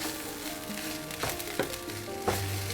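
Garlic pepper rice stirred and mixed in a hot pan, a steady frying sizzle with a few scraping stirs, close and fairly loud, no talking.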